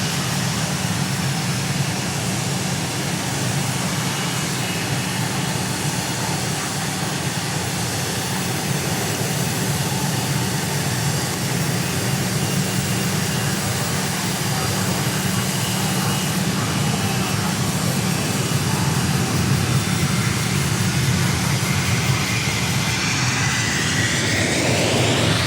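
Airplane jet engines roar at Dallas Love Field, a loud sustained wide roar that holds steady for the whole span and swells slightly toward the end as the aircraft climbs away.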